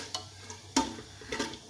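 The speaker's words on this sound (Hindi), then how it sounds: "ये मसाले मैंने डाल लिए हैं इसमें। ये थोड़ी देर रोस्ट होते हैं" Spices roasting in hot oil in a pan, faint crackling with a few sharp spoon scrapes and stirring knocks against the pan.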